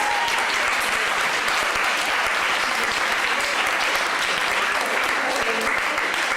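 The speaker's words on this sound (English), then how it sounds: "So just like a massive round of applause for the societies and all the work they do as well." Loud, dense crowd applause fills a presentation evening hall, continuous and unbroken throughout, with many hands clapping at once close to the listener.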